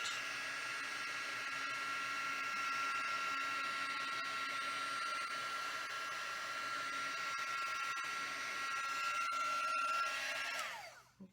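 A heat embossing tool blows steadily on the back of a curled card-stock piece, giving a continuous whirring hiss like a hair dryer that holds for about ten seconds before cutting off.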